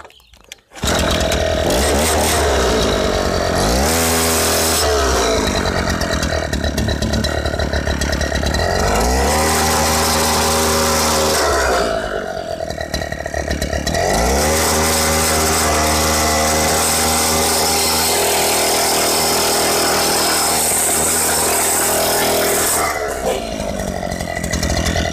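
Petrol-engine cycle-type cultivator (kolpe) with a pump-primed carburettor, working damp, rain-softened farm soil; its small engine drones loudly and continuously throughout, revving and dipping in load at several points.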